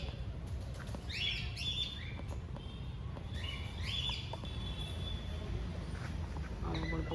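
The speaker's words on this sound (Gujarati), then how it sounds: "અત્યારે તો પોપટ અને કબૂતર જોવા મળે છે." Parrots and pigeons in a garden aviary at Peel Garden, Bhavnagar, give intermittent chirps and short squawking calls, moderately near, over a steady outdoor background hum.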